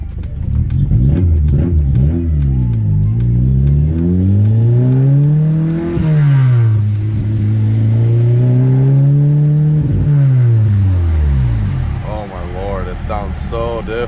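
A 2014 Honda Civic Si with a Rev9 downpipe accelerates on a wet, rainy road, the engine note climbing and dipping through several gear changes, loud and close from inside the car.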